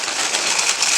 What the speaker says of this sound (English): I'm going to go ahead and put my Garofalo in there from Naples, Italy, organic.